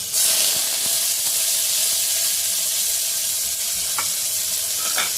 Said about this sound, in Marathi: फोडणी थोडी परतून घेऊया आपण